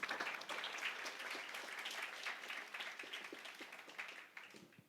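A church congregation claps and applauds during a celebration service, a steady wash of many hands filling the room at moderate, slightly distant level, tapering off toward the end.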